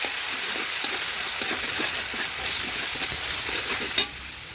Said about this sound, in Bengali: একটু নাড়াচাড়া করে মশলাটা একটু ভেজে নিচ্ছি